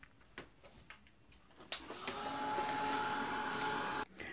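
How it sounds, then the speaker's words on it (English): Heat tool drying colouring on a paper craft piece: a few soft clicks and handling sounds, then a steady fan-like blowing hum that runs for about two seconds before switching off. "I'll just dry that off with my heat tool"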